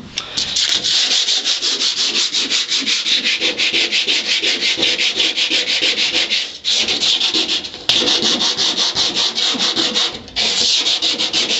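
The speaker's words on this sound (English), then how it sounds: "I'll be sure to go in there and wire wheel all that out, make that nice and clean" A wire wheel grinds paint off the rocker panel of a 1962 Ford Falcon, a loud continuous abrasive whir that runs nearly nonstop, with a couple of brief dips where the tool lifts off the metal.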